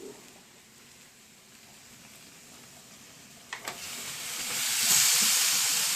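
Pork dropped into a hot pan with mushrooms, giving a soft steady hiss that swells into louder, brighter sizzling near the end, with a couple of quick clinks partway through.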